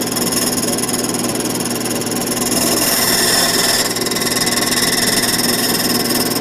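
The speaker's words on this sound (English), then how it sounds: "it's a key cutting machine" A key cutting machine runs with a steady, loud whirring grind and a high metallic whine that stays constant throughout.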